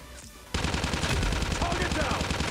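UL736 light machine gun fire in the mobile shooter Call of Duty Mobile: after a brief quiet moment, a loud, rapid, steady burst of automatic shots rattles on without pause.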